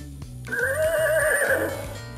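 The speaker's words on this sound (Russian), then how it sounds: "Это лошадка." A horse gives one long, wavering neigh that rises and trails off, close and clear, over a steady background music bed, with no talking.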